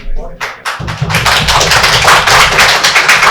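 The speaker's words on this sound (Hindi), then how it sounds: "आप पहले व्यक्ति हैं जिसको डबल तालियां बज रही है पहली बार।" A training-programme audience claps in a loud, close burst of applause after a first-time stage speaker. Dense, lively clapping starts with a few heavy thumps and continues steadily.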